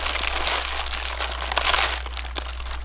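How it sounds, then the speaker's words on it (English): A bag being crumpled up by hand to stuff insulation gaps in a chicken coop, a loud close crinkling and crackling that runs steadily with sharp bursts, over a low steady hum. "take said bag and crumple it up"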